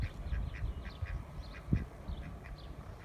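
A pet duck at home quacks again and again in a quick, uneven string of nasal calls, fairly close, with a low rumbling background underneath.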